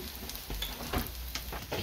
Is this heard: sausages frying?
yes